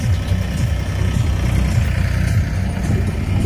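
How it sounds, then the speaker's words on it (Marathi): Farm tractors working in a field beside a freshly planted onion plot, a steady low engine rumble droning on without a break, fairly close and loud, with no voices over it. "त्यानंतर इकडं चाललेलं आहे आपले सारे ट्रॅक्टरचे"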